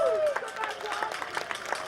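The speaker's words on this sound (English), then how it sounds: "Let's give Tom a round of applause." Scattered claps from a live audience at a 2019 dramatic performance staged at the Trim Salmon of Knowledge Festival, opening with a brief falling whistle-like tone before steady, moderately loud clapping carries through two seconds.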